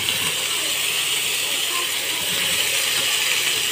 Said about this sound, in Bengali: তো দিয়ে দিচ্ছি আমি ঝিঙে আর আলু কুচোনো